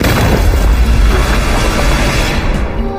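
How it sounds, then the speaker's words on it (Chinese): A grenade blast in a special forces combat drama roars as one loud, heavy boom whose deep rumble fills the whole stretch and slowly fades near the end. "阎王一枪爆头，但手雷却摔在地上。"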